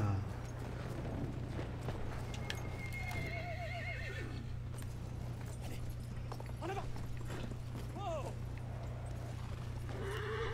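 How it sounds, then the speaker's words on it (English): Horses in the World War I shooter Battlefield 1 neigh and whinny several times over a steady low engine-like drone, with hooves clip-clopping and a person talking faintly in the background. "I'm pretty sure that's a horse."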